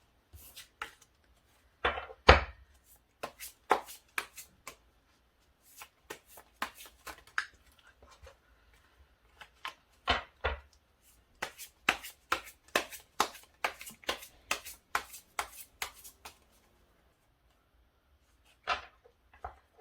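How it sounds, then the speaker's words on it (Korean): Tarot cards are shuffled and drawn on a table for a love reading, with scattered crisp flicks and riffles coming in bursts, then a dense run of snappy card slaps, close and quiet, no talking. "카드를 뽑아보도록 하겠습니다"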